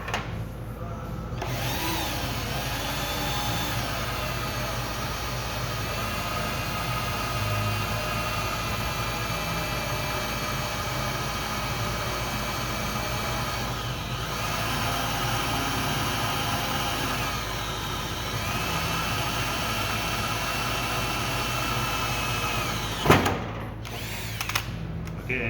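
A drill bores out spot welds on a 1967 GTO body, running as a continuous steady whine with close grinding texture for most of the stretch and briefly stopping near the end.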